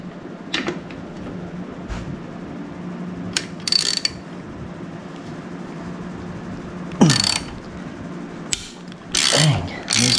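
Hand ratchet clicking in short bursts as two bolts are loosened from a carburetor, quick pawl ticks starting and stopping in a quiet garage.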